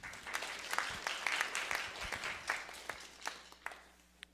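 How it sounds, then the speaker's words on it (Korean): Congregation applause at a New Year's Day special prayer service, with sharp scattered claps that stay steady for a few seconds and then thin out toward the end. "박수 해주세요. 박수."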